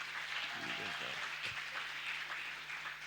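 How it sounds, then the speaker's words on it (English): An audience at a tech career event applauds, a steady wash of clapping filling the room at moderate distance, with a brief voice heard early on over it. "Can we just give a clap for the incubator for this amazing job?"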